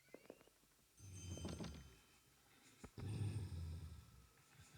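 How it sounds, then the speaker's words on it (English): In a video game cutscene, a possessed dog lets out two low, rumbling growls, each lasting about a second, separated by a short sharp thump, at moderate volume without talk. "A dog. A possessed dog."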